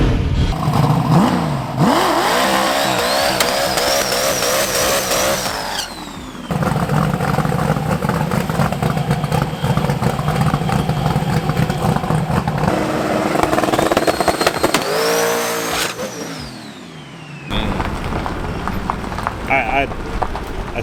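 A drag race car, apparently fitted with a fresh clutch disc, makes a loud full-throttle pass: the engine revs up hard, shifts and rises again across the run, with brief breaks and a person talking over parts of it.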